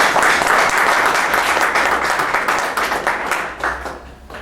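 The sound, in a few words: audience applause at a book presentation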